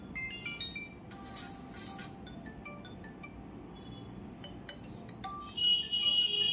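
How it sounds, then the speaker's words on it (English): A Poco M2 Pro phone plays ringtone previews, soft chiming tones and short melodic blips over low room hum, ending with a brighter sustained ringtone melody. "you can select your new ringtone sound"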